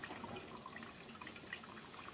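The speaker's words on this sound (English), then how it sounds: "It's just pretty much a continuous stream coming out." A Bunn coffee maker brewing, releasing a continuous stream of water that trickles and splashes softly at a steady, faint level, with small droplet plinks over the flow.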